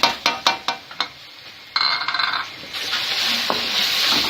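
Mutton karahi with freshly added green chili and ginger is stirred in a pan: a run of sharp spoon scrapes and clinks, then a loud, steady sizzle of frying that carries on to the end.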